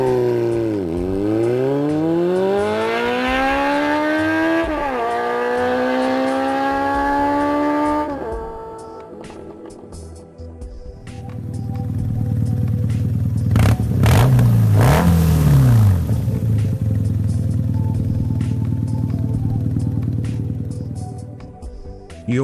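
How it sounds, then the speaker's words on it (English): Engines of 2019 cafe racer motorcycles rev loudly with rising and falling pitch sweeps, one bike climbing through gears before a second deeper engine rumbles and surges in sharp revs. "The sound of most candidates' engines."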